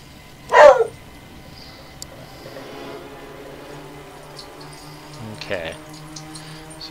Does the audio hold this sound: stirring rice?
no